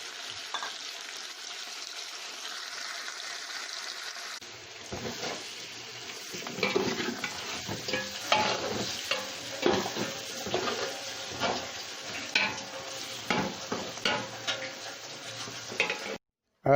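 Spices for chicken haleem sizzle and fry in a pan, stirred with a utensil that scrapes and clinks against the metal in irregular strokes. The sizzle rises from quiet to a busy, close texture with no talking.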